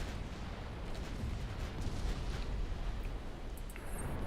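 Naval guns fire in the video game Ultimate Admiral Dreadnoughts as main batteries and secondaries engage cruisers and battleships, a heavy, continuous low rumble of distant gunfire and explosions, steady and booming without talk.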